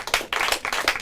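Quick burst of audience clapping for a team at a school quiz competition, with distinct individual claps in an uneven rhythm, fairly close and without talk.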